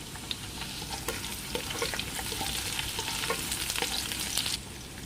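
Garlic sautés in a hot pan with a steady, bright sizzle and frequent crackling pops for several seconds, tapering slightly at the end; no voices.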